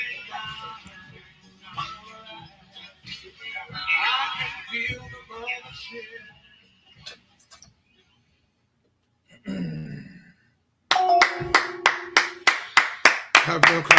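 People speak first, then after a pause a group claps hands in sharp, evenly spaced beats at a religious gathering, loud and close with no talk over the clapping.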